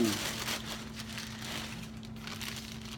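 Paper wrapping crinkles and rustles as a Thursday Boot Company boot box is unwrapped, a continuous close crackle filling the few seconds, with a voice reacting briefly at the start.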